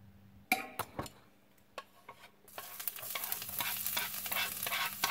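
Garlic and shallot hit hot oil in a frying pan, a few utensil clinks first, then a steady bright sizzle that swells and continues, close and alone.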